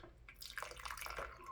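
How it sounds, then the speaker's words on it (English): Faint, irregular drips and trickling water from an Instafloss water flosser whose reservoir leaks while being filled, close and quiet with small splashes scattered throughout. "So you go to fill this thing up with water, and it starts leaking right there."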